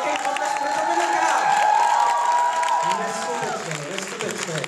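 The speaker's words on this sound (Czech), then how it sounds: "Ještě jeden velký potlesk pro Dominika." A theatre audience claps and cheers in a crowded wash of applause, while a voice speaks over the crowd noise.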